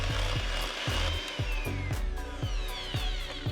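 Plain yogurt being lightly mixed into moist lemon cake batter, a steady close mechanical whir with regular rhythmic pulses as the beaters pass through the bowl, continuous throughout with no talking.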